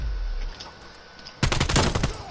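A sniper rifle shot in a competitive Search and Destroy video game match, a sudden loud crack that bursts out after a quieter stretch of game ambience, with a brief ringing tail trailing off.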